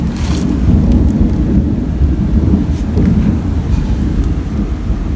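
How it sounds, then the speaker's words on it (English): Thunder from a storm brewing outdoors rumbles steadily and fairly loud, with a low rolling roar and rain or wind noise mixed in throughout. "Got a storm kind of brewing out there."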